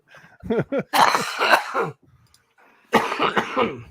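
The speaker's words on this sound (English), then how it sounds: "Oh man, this fucking cough." A burst of harsh, repeated coughing with throat clearing, loud and close, a brief pause, then another fit of rough coughs.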